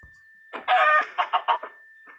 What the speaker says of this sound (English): That's one tiny chicken.